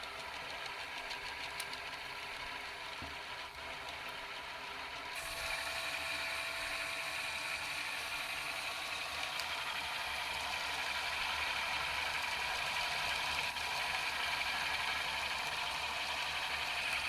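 Rotating magnet wheels on a test rig spin up faster, giving a continuous high whirring hum that rises in intensity partway through, with a steady mechanical drone from a poorly balanced wheel.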